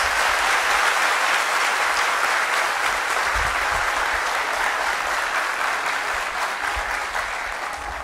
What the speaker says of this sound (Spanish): Al señor presidente, al Poder Ejecutivo, un fuerte aplauso y muchísimas gracias.